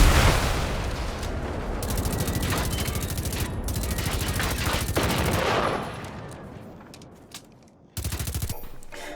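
The HP5 SMG in Generation Zero fires in rapid, continuous automatic bursts, loud and close, trailing off after about six seconds before a final short burst, with no speech.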